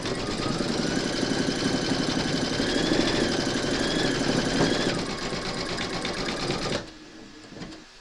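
Embroidery machine satin stitching around an applique skeleton's thigh and hips, a rapid steady mechanical chatter with rhythmic needle tapping, close and continuous before cutting off near the end, leaving a faint quiet tail.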